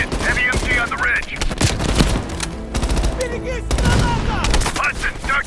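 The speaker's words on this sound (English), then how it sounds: "Heavy MG on the ridge." Heavy machine gun fire pours down from a ridge in a Call of Duty: Black Ops Cold War firefight, rapid rattling bursts close and loud, overlapping other shots and battle noise throughout.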